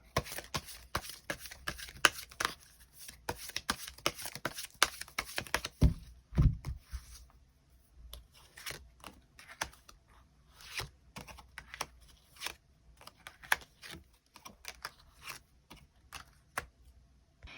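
Tarot cards being shuffled and drawn, a close run of quick crisp card flicks and slaps, dense at first and then sparser, with a couple of duller thumps midway, no voices.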